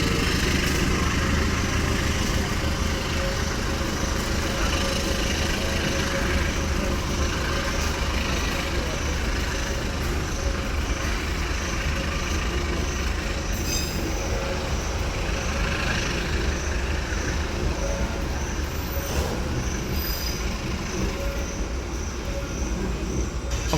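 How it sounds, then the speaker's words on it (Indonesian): Kutojaya Selatan train shunting backwards with CC206 and CC201 diesel locomotives in double traction: a steady diesel drone and rolling rumble throughout, moderately near, with faint squeals and no talk. "itu adalah langsiran mundur kereta api yang akan kita naiki, yaitu kereta api Kuto Jaya Selatan"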